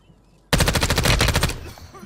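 A burst of rapid automatic gunfire in a Call of Duty game rattles for about a second, loud and close, then trails off into a faint echoing tail.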